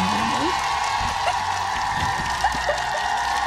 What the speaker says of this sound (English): Everyone, round of applause for that.